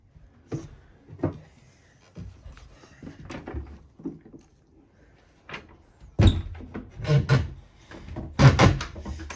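Stiff interior doors and cupboards on a boat are opened and closed, giving a series of knocks, creaks and thuds at irregular intervals, getting louder toward the end, with faint low voices in the background.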